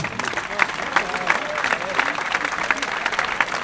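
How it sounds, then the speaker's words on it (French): A crowd at a young firefighters' gathering claps for a team's good result, producing dense steady applause for a few seconds while a voice talks over it. "On peut les applaudir pour ce beau résultat."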